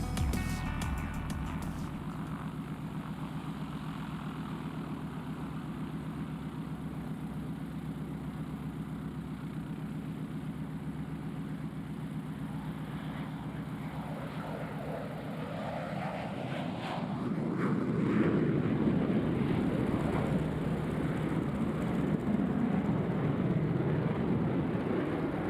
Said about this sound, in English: a combat capability demonstration by the world's premier multi-role fighter, the F-16 Fighting Falcon,